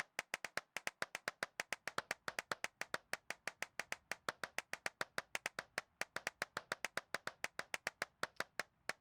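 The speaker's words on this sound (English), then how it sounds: "Now I'm gonna keep clapping" Rapid, steady hand clapping fills an abandoned church, dozens of crisp, evenly timed claps in a continuous run with a slight room echo behind each one.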